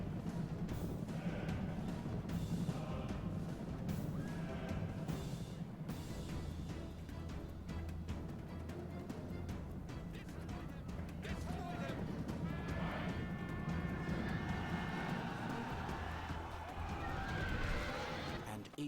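Parthian heavy cataphract cavalry charging in Rome: Total War at the Battle of Carrhae: a continuous rumble of galloping hooves with clashes and shouts, while a narrator talks over the battle throughout.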